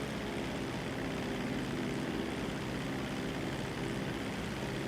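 A propeller airplane flies in GTA 5 Online, its droning engine filling the whole stretch as a loud, steady, continuous roar with no voices over it.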